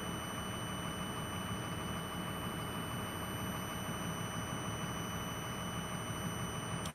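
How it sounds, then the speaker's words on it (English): A vehicle's low air pressure warning buzzer sounds as a steady continuous electronic tone over a constant engine rumble, unbroken for several seconds before cutting off abruptly. "then this buzzer will turn off."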